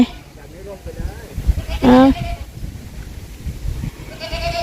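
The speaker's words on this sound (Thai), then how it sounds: "แพะแพะร้องเลยนะ" A goat bleats once, a short wavering call rising clearly above a garden after rain, with people talking nearby before and after it.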